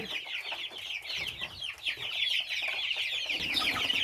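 Kadaknath chicks on a farm, a dense, continuous chorus of high, thin peeping close by, growing slightly busier toward the end, with no voices.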